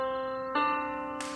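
A major second played on piano: a held note, then a second key struck a whole step away, ringing clearly, with a brief noisy hiss near the end.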